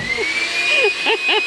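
A household vacuum cleaner running steadily with a high whining motor tone, loud and close, with brief muffled sounds shifting over its hum.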